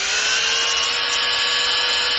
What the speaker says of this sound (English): actually hit it with the sander